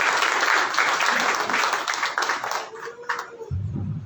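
A church congregation at a Sunday morning worship service claps together in a dense, loud burst that thins out after a few seconds, with a few voices rising near the end.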